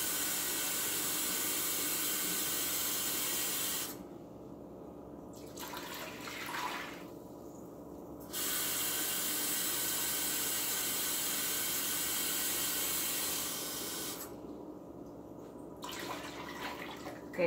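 Water runs steadily from a kitchen tap as about six cups are measured out for dyeing wool roving with vinegar, a broadband hiss broken by two brief pauses where the flow stops, with no talk.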